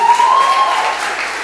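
Congregation applauds during a Portuguese-language church service, a steady wash of clapping with a faint sustained tone over it for the first half, brief and fairly loud.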